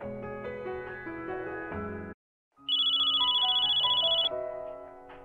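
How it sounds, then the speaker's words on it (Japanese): A telephone rings in the game Code Geass Lost Stories: a electronic ringtone with a tonal chime, a brief silent pause, then a brighter trilling ring that repeats loudly, with no talking. "電話が鳴っているぞ。"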